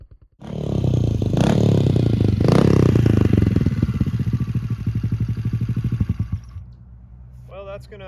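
A Honda Z50R mini motorcycle engine roars loudly nearby, revs up, then winds down through slowing pulses before cutting out. A brief voice follows at the end.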